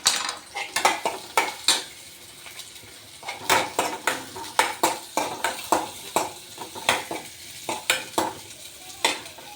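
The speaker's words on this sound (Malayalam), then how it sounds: "എണ്ണയും കടുകും ഇട്ട് കുറച്ച് ചെറിയ ഉള്ളിയും കൂടെ ഇട്ടു" Small onions and mustard seeds fry in oil in a pan, sizzling softly while a metal spoon stirs and scrapes in repeated sharp clinks against the pan.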